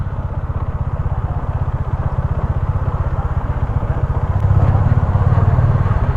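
Motorcycle engine idling steadily at close range in a temple parking area, a low, even throb that swells a little louder toward the end, with no talk.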